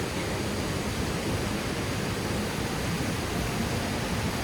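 A powerful waterfall in Western New York roars as a steady, dense wash of falling water, loud and constant throughout with no voices.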